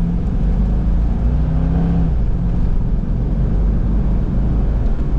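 A 2002 Chevrolet Corvette convertible on a test drive, its engine giving a steady, loud low drone with road and wind rumble throughout and no break in the sound.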